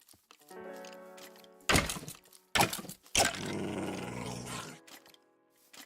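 Dog growling in a video game, with low growls and harmonic tones over a steady drone, broken by three loud thuds or bursts and a longer rough roar; no talking.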